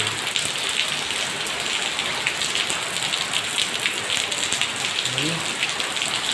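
Heavy rain pours steadily and loudly on a surface in the Philippines during a typhoon, a dense continuous hiss close by with no letup, and a brief low voice or thump faintly near the end.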